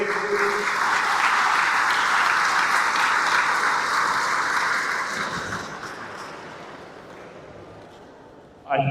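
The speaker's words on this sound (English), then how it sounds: "We'll do a round of applause for Greg," Loud, dense applause from a crowd at the AEBF Nationals 2025 presentation for Greg Johncock from Queensland, sustained for several seconds before slowly fading, then a sharp noise right at the end.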